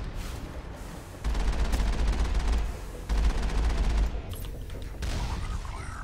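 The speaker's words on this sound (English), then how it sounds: "If I hit it with the cannon now," Rapid bursts of heavy cannon blasts in the game Mass Effect, loud and sustained, coming in several waves with brief pauses between.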